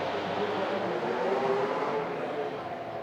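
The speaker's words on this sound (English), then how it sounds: "I don't know if you can hear the cars racing in the background" Vintage race cars roar in the distance at the Pittsburgh Vintage Grand Prix, a continuous blurred engine drone swelling and fading as they pass, with faint voices nearby.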